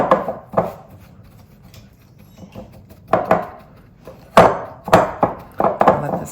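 Hands mixing and squeezing a clumping bath bomb mixture in a bowl, close scraping and rubbing bursts with irregular pauses and no talking.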